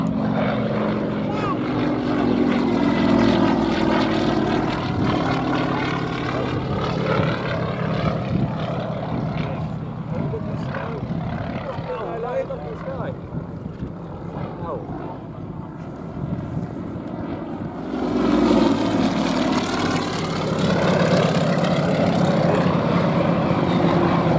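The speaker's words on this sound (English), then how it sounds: "Single-seat competition aerobatic aeroplane" A single-seat competition aerobatic propeller plane at an air display roars overhead, its engine note rising and falling as it swoops past, swelling loudly again near the end amid wind buffeting.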